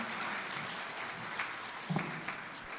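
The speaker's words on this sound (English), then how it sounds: "Can you give her another round of applause to me, please?" Audience applause at a national health research conference, a steady wash of clapping at moderate distance that runs throughout, with a couple of slightly sharper bursts near the end.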